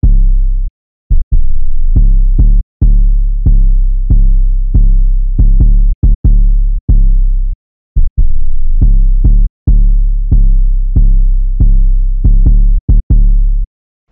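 An 808 bass pattern programmed in FL Studio plays a loud, deep booming line of sustained and short notes in a steady hip-hop rhythm, alone without other instruments or voices.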